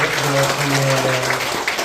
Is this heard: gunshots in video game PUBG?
no